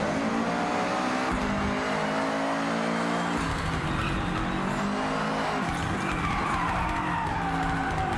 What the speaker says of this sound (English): it's struggling for grip on the tarmac